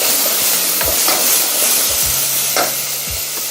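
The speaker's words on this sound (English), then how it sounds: "Now I add in my tomato puree." Tomato puree added to browned onions fries in a pan with a steady sizzle, with several low clattering stirs and scrapes of a utensil spread across the pan.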